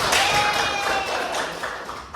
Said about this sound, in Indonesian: Oke, tepuk tangan saudara.